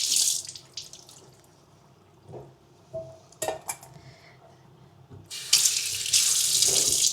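Tap water runs into a kitchen sink while bitter gourd is rinsed, rising to a loud, steady gushing stream near the end, with a few light clinks of dishes and handling sounds in between.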